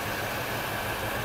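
A Mercedes W126 560SEL with an engine problem under repair idles in a steady, even drone with broad hiss and no talking.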